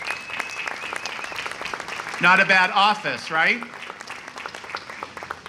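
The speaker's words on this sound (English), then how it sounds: "If we could give them a round of applause." Outdoor applause at a Progress Pride flag blessing ceremony, light clapping running under a man's speech that dominates the middle of the clip.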